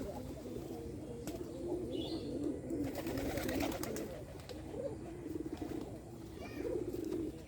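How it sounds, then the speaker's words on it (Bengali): Pigeons coo softly and repeatedly at a moderate distance, their low rolling calls running over a steady outdoor background with a few faint chirps. "এই যে এটা হচ্ছে অতিথি কবুতর।"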